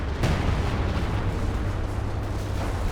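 Howitzer artillery in Company of Heroes 2 fires and impacts in a dense, rumbling barrage, with heavy booms layered over continuous battlefield noise, loud and sustained.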